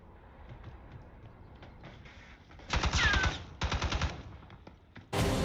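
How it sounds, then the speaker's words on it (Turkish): Bursts of rapid automatic gunfire in Black Ops 6 Prop Hunt, a long volley followed by another and a third starting at the end, with faint distant shots between. "Silah sesleri yaklaşıyor gitgide."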